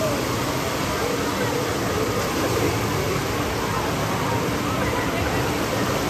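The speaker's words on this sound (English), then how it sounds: "Oh, these waves are getting bigger." Steady broadband wash of churning water from a wave pool at California's Great America, with a busy crowd murmuring and people talking throughout.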